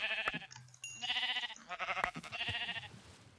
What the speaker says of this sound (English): Sheep! Yes, I found sheep